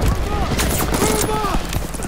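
Gunfire in the video game Vanguard rattles in a dense, continuous burst, a loud mix of shots and battle noise that fills the whole stretch, with faint voice-like sounds mixed in.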